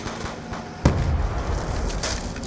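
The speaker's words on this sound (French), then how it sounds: "j'ai lâché une bombe sans faire exprès." A single bomb blast in Call of Duty Black Ops 2 Zombies mode, a sudden booming thump followed by a rumbling, noisy tail of game sound.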